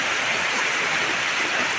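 Heavy rain pours down steadily during a tropical storm by the sea, a dense, even roar with no pauses, close and loud throughout.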